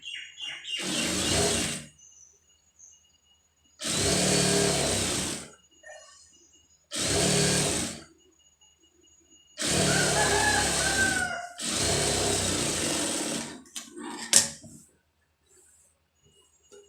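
A sewing machine stitches the main piece of a lined blouse. It runs in six separate bursts of one to two seconds each, with quiet pauses between them.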